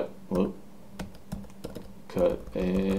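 Computer keyboard typing in quick bursts of clicking keystrokes, close and fairly quiet, with short gaps between and soft talk running underneath.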